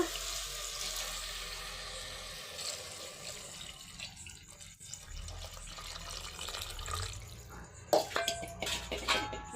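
Water runs and splashes steadily into a pot of palak pulao for several seconds, followed by a few sharp clinks of metal near the end.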